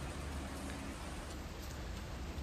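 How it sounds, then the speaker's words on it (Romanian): Rain falls outdoors in Cyprus, a soft, even hiss that stays faint and constant for the whole stretch, with no talking over it. "Afară plouă, de la soare s-a prefăcut în ploaie"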